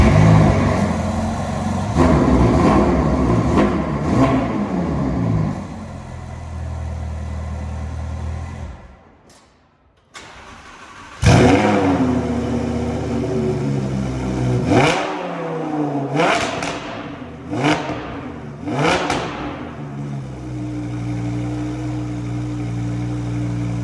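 A Lamborghini and a Ferrari with titanium exhausts fire up loudly, close by. Deep idling gives way to a brief cutoff, then a sharp restart and a run of aggressive, rising revs that snap back between blips.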